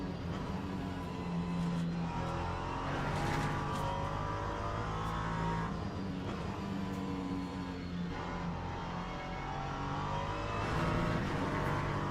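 LMP2 prototype race cars in a racing video game thunder through the Fuji circuit, a dense continuous engine roar with rising and falling pitch as several cars pass close, loud throughout with no talk.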